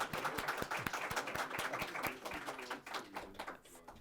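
A conference audience at a policy symposium breaks into scattered, moderately distant clapping that carries on for several seconds and thins out toward the end.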